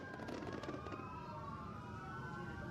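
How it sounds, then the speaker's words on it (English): Several police motorcycle sirens wail at once from a distance at a thrill show, their overlapping tones slowly sweeping up and down over faint background noise. "Lights and sirens blaring."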